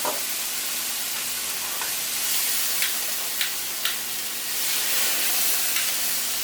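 Sherry poured into a hot pan for a chicken and pink vodka sauce pasta, hissing and sizzling steadily as it cooks down, close and continuous with a few sharp crackles and pops, no talk.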